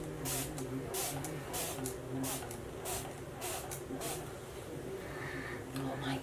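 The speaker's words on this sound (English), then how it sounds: "I'm just gonna spray it too, because why the hell not?" Several short bursts of a spray bottle hiss in quick, uneven succession, close by, over a steady low background hum and faint talk.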